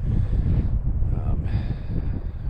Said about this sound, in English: It's super windy here at the trailhead